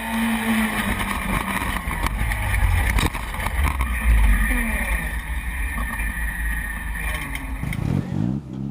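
A loud off-road 4x4 engine roars and revs continuously at an obstacle-course competition, close and strained, with the sound surging and easing before dropping off at the end.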